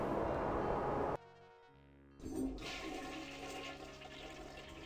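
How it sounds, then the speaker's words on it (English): A toilet flushes in the DOS game I Have No Mouth And I Must Scream, a loud rushing gush that cuts off abruptly, then a second swirling flush rises and drains away. "Go to the restroom and flush 3 times."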